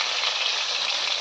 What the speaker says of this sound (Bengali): তো করলা ভাজা হচ্ছে।